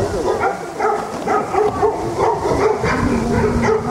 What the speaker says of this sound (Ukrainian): на кадрах чути їх голосне гавкотіння